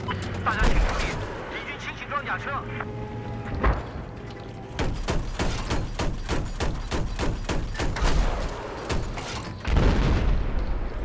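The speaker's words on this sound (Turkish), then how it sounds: "Patladı, patladı, patlattım." Heavy booms and bursts of rapid gunfire crackle through a Battlefield 4 match, with a loud blast near the start and another rumble at the end.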